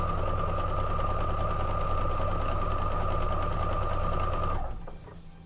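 A sewing machine stitches long quilt pieces in one loud, steady close whir that stops abruptly near the end, leaving a quiet room.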